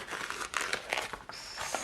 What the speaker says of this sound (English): you can fold it, like concertina it